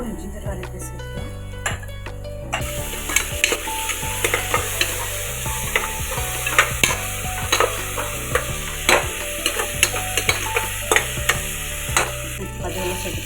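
Ginger garlic paste frying with onions in a pan for goat head curry, with continuous sizzling and regular scraping stirs, occasional clinks of utensil on metal, and background music.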